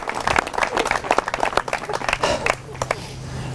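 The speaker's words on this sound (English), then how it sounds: "Let's give her a round of applause." Wedding guests clap for the bride, a scattered burst of hand claps that thins out and fades after a few seconds, with some talk underneath.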